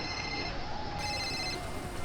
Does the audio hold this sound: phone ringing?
yes